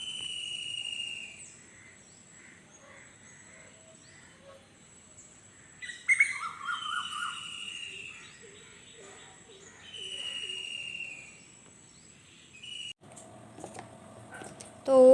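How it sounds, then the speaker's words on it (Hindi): Morning birds chirp and pigeons coo on a rooftop, with scattered tweets and calls rising and falling across the span, some nearer bursts midway and a louder burst at the end; a voice is faintly present at times. "आप भी सुनिए पक्षियों की आवाज़।"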